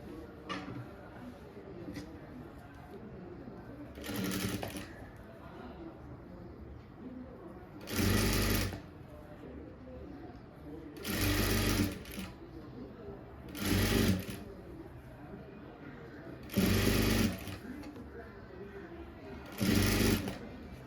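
A sewing machine stitching a blouse runs in short, loud bursts of rapid whirring at regular intervals, with someone talking and faint bird cooing in the background between runs.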